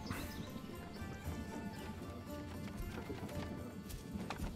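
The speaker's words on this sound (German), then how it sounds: "Ah, da kommt der Ochse." Hooves of an ox plodding along in the medieval city-building game Manor Lords, soft rhythmic clopping under a layer of ambient game sound, moderately distant.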